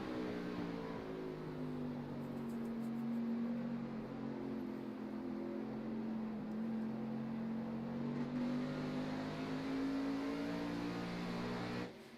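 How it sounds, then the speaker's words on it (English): A race car engine on an oval track holds a steady, droning note that sags and climbs as the driver hesitates back onto the throttle, a continuous distant roar without talk. "you can really hear the hesitation getting back to the throttle as well."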